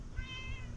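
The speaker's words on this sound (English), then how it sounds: "So anyhow, there's Kitty Cat." A cat meows once, a rising harmonic call that is clear and fairly close, with no talk over it.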